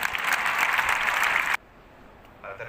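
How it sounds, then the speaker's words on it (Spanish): Loud, dense audience applause at a graduation ceremony fills the hall steadily before cutting off abruptly, leaving quiet room tone and a few faint sounds. "Don Jaime Basón, Un fuerte aplauso ahora para todos ellos."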